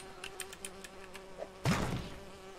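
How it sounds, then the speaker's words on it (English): A swarm of bees dropped on an enemy in the video game Lego Lord of the Rings: a steady insect buzz with faint game effects, ending in a louder burst of impact noise. "I'm too lazy to continue, so it's time to drop the bees."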